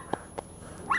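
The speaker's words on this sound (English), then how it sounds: "That's Bash's bark. That's my bark." A small dog barks in short separate yips, two quick bursts followed by a higher whimpering yelp at the end, fairly close and alone with no talking.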